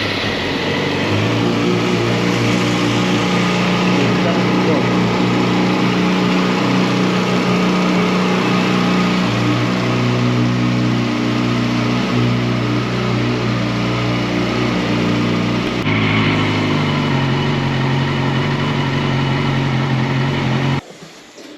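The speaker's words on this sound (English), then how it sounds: "when you turn the bike on" A Yamaha R6 sport motorcycle engine catches and settles into a loud, steady droning run, with a brief shift in tone late on before the sound cuts off abruptly.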